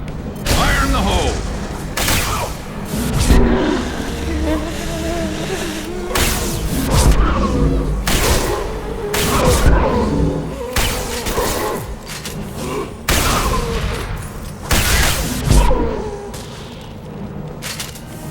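Grenade blasts and gunfire during a firefight in Mass Effect 2, with loud booming explosions and bursts of shots erupting repeatedly through a dense, chaotic battle soundscape.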